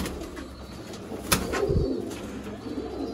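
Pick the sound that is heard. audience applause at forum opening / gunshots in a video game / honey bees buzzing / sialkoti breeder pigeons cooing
sialkoti breeder pigeons cooing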